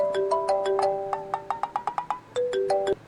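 A phone ringtone plays a bright electronic melody of quick separate beeping notes, with sustained tones at the start and end, heard alone and fairly close.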